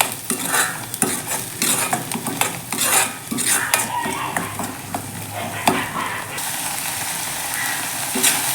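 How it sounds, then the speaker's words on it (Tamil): Cooked rice is stirred into a sautéed mint mixture in a pan, giving a steady scraping clatter of a spoon against the metal over a soft sizzle, close and fairly loud, with no talking. "வதங்கினதுக்கப்புறம் நம்ம ரைஸை போட்டு கிளற வேண்டியது தான்"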